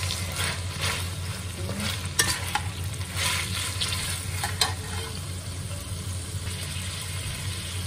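Tofu sautéed briefly with soy sauce and oyster sauce sizzles loudly and steadily in the pan, with occasional sharp clicks of stirring over the constant frying hiss.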